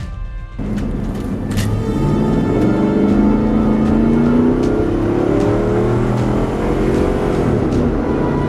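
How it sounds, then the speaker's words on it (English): A 1999 Lincoln Navigator accelerating, its engine rising into a loud, steady roar that builds and holds close by, with no talking. "Now let's see about that acceleration."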